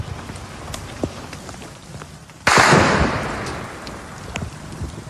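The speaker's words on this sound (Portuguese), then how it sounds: "Ouve-se um tiro." A single sharp gunshot cracks out midway, its blast decaying into a lingering rumble over a steady hiss of rain-like background noise.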